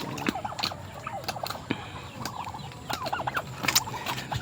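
Turkeys gobble repeatedly in quick rattling bursts, several birds calling over one another at moderate distance, with no one speaking.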